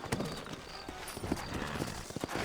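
Horse hooves in Red Dead Redemption, a quick irregular clip-clop of trotting hooves close by, steady throughout over faint outdoor ambience.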